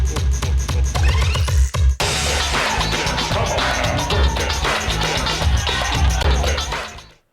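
Fast, dense video game boss music from the Japanese soundtrack of Sonic CD, driving percussion and bright synth layers playing loud and continuous, with a brief dropout near two seconds before the track surges back and fades at the end.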